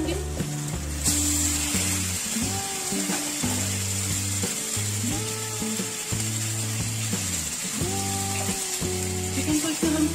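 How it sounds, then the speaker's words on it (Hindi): Chicken hits a karahi of fried garlic and ginger for black pepper chicken, producing a steady loud sizzle beneath a layer of tonal, mechanical-sounding background music. "चिकन को इसमें हम थोड़ा सा भूनेंगे"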